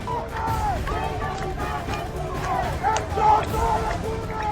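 A protesting crowd on a street in Isfahan raises a steady, dense hubbub of many voices, with rhythmic chant-like calls rising above the babble throughout.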